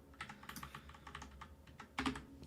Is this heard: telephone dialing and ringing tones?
no